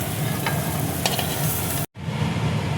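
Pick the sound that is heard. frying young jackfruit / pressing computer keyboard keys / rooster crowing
frying young jackfruit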